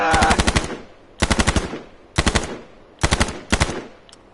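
Five short bursts of automatic machine gun fire in the battle royale game H1Z1, each a rapid volley of three to five loud, close shots separated by brief pauses.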